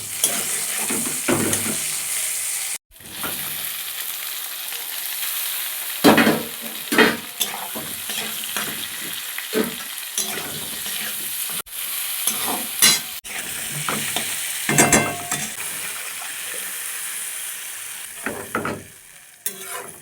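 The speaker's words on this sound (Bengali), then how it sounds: "আর এখানে পেঁয়াজটা ভেজে নিচ্ছি আগে।" Onions fry in a wok with an uneven sizzle broken by repeated spatula scrapes and stirring bursts, loud and near with short pauses between strokes; no speech.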